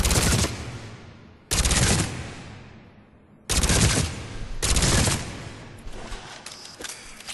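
Shuriken automatic pistol firing in Mass Effect 3 target practice, several loud rapid bursts of gunfire separated by short pauses, then a few lighter single shots and clicks near the end.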